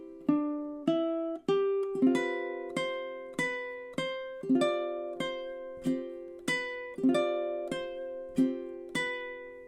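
Ukulele playing measures 10 to 13 of a song, a steady series of plucked and strummed notes with ringing sustain, solo and close.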